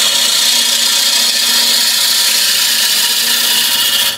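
On a lathe, a gouge drags through a pull cut on a bowl turned from scrap wood, giving a loud, close, continuous hiss and scrape that holds steady without any voice.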